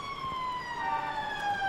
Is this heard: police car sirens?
yes